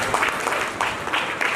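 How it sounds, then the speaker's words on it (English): Applause at a school felicitation ceremony for young students, a brief spell of crowd clapping with a few sharper individual claps standing out over the steady patter. "give them a huge round of applause"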